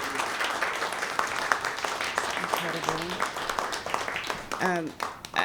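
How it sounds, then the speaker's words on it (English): Audience applause for presenters at a panel event, a steady patter of clapping under a near voice speaking over it, with a louder exclamation near the end. "if we can have just a round of applause for our presenters"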